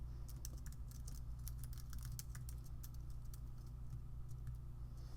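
Quiet, rapid keystrokes on a computer keyboard patter steadily over a constant low hum, with no voices.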